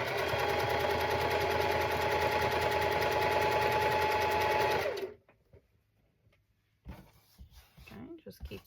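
A sewing machine stitches quilt pieces together at a steady, rapid pace for about five seconds, loud and close, then stops, and a person starts talking.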